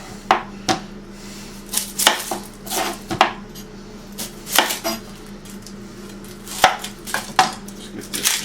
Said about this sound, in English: Let's get this chopped up